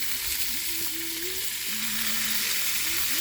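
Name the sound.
sirloin steak frying in a frying pan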